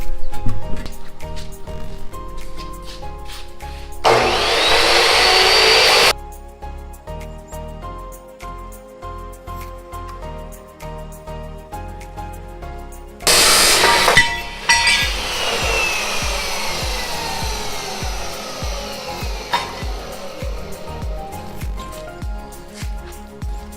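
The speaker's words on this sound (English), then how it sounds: "So we'll go over to the chop saw here and get them cut." A chop saw cuts rusty metal side rails for a seat bracket, giving two loud, sustained bursts of screaming cutting with clattering and shop noise between and after them, close by and with no speech.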